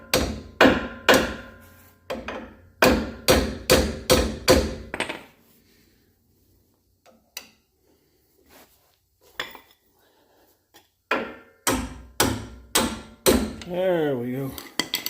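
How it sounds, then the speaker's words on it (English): Sharp, ringing metal hammer blows strike a Rough Country 2.5 inch leveling kit on a 2015 Ram 1500, coming in quick bursts of five or six hits separated by pauses, with a few isolated taps in between. "Trying to swing a hammer with my left hand."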